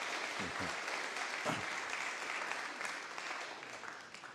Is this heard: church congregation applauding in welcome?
yes